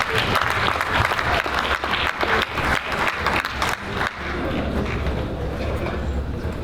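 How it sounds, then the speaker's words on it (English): Applause at a live comedy roast event: a dense, loud burst of clapping from the audience for a participant that fades into murmuring crowd noise. "Let's give Emerson a round of applause."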